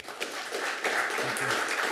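Attendees at a city council meeting clap briefly after an opening invocation, a moderate, somewhat scattered patter of hands that swells slightly partway through.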